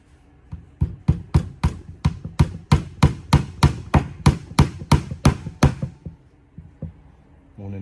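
A Cobalt hammer strikes about fifteen times in a steady, even rhythm, each blow loud and sharp, then a few softer taps as it slows to a stop.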